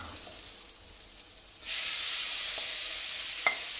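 Squid dropped into a hot pan of softened grilled peppers, the quiet sizzle jumping to a loud, steady hiss midway and carrying on, with a small clink near the end.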